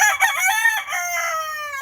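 A gamefowl rooster crows once, close and loud, a long harmonic call that rises, holds and trails off over nearly two seconds, heard alone.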